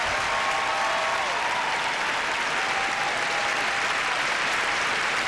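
A telethon studio audience applauds a musician and his band in 1988: a steady, even wash of clapping from many hands, alone and sustained.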